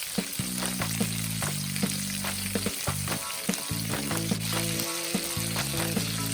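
Minced garlic sizzles and fries with prawns in a hot wok, a steady dense crackle broken by repeated sharp clanks of a spatula against the pan, with no voices.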